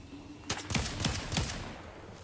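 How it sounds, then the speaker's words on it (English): Gunfire in the video game Fortnite during a European Fortnite Champion Series 2023 match, a quick run of four or five sharp shots in a rapid burst, fairly close and on its own without talk. "Mustache is blocking his back while he takes shots onto whoever that is, and a couple of headshots being connected as well."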